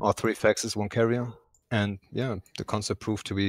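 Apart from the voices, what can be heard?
No distinct noise like a dog, phone or traffic.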